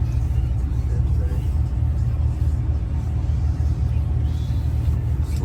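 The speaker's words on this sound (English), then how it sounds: "Traffic, traffic, traffic." Steady road rumble is heard from inside a car in Florida traffic, a constant low engine and tire drone at close range.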